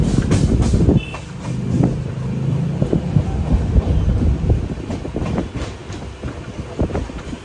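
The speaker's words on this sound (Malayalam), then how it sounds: "12:47 കൊല്ലം ജംഗ്ഷൻ റെയിൽവേ സ്റ്റേഷനിലേക്ക് ഇതാ നമ്മുടെ ട്രെയിൻ എത്തിക്കൊണ്ടിരിക്കുകയാണ്." The Sampark Kranti Express rolls into Kollam Junction station with a loud, close rumble of wheels and carriages, gusts of wind buffeting the microphone and a brief low hum running beneath.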